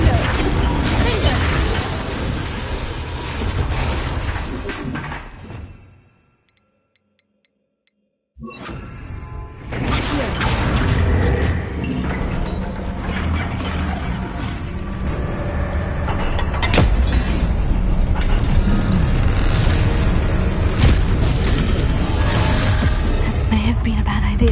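Explosive spells Bombarda and Confringo go off in Hogwarts Legacy, with loud crashing blasts and rumbling debris that drop out briefly into silence before resuming with heavy, dense impacts and a voice speaking.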